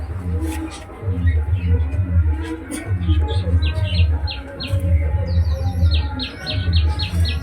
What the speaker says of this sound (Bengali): চন্দনা টিয়া কথা বলে